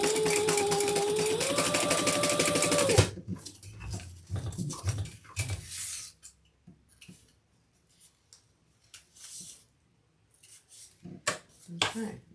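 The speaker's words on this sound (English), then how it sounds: "I'm just going to do it a little chain stitch here." Sewing machine stitching a chain stitch along a crossbody handbag seam, a loud steady whirring run for about three seconds that then stops, followed by scattered handling clicks and rustles.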